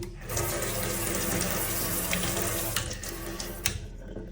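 A strong stream of water gushes from a tap, a loud steady rush that continues nearly throughout before cutting off.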